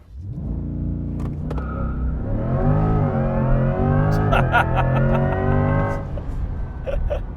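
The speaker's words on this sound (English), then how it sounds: "that was just like launch control wheel spin through first and second gear" Corvette E-Ray launching hard under launch control, its engine note climbing loud and close through first and second gear with tire spin, revs sweeping upward and breaking at each shift, with voices talking over it.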